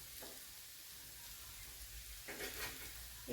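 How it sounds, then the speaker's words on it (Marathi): Coriander vadi frying in a pan as pieces are flipped, a quiet continuous sizzle with a few short scraping bursts from the spatula turning them. "पहा वडी पलटून घेत आहे."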